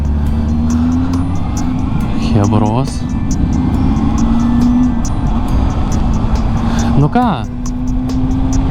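A modest, non-sporty car engine hums steadily while driving, a continuous close drone with two brief rising-and-falling revs as gears change, heard from inside the cabin with a few spoken words over it.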